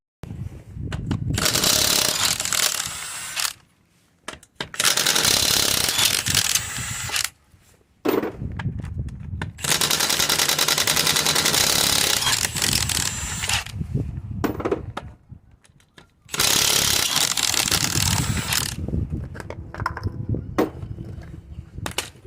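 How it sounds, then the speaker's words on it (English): Wheel nuts on a Citroen Relay or Fiat Ducato type van taken off with a power tool, loud sustained rattling bursts separated by short silent gaps, close up and without talk. "Wheel nuts off."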